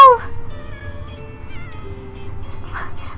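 A cat meows in The Sims 4: one loud, bright meow opens the clip, then softer wavering cat cries follow over a low, steady game background hum.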